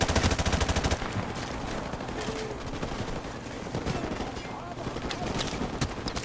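Rapid gunfire from Call of Duty 4 Remastered rattles in dense, fast bursts, loudest at the start and continuing as sporadic shots through a busy game mix.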